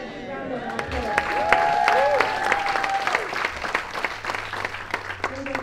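Applause from a church congregation during a prayer service, a dense wash of clapping with a sustained tone and voices mixed in, steady and fairly loud throughout.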